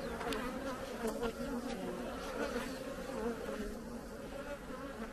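Dense continuous buzzing of newly hatched honeybee workers crowded around a queen in a queen cage, a close, steady hum that stays unbroken throughout.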